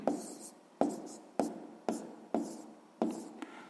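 A pen writes out a math solution on paper, six quick strokes each starting with a sharp tap and trailing into a scratch. The strokes come at a steady pace about half a second apart, close and quiet, with no talk.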